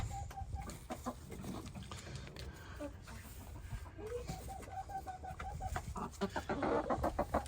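Sapphire Gem hens clucking and chattering close by on a homestead, a steady run of short calls with some rustling and movement, growing busier toward the end.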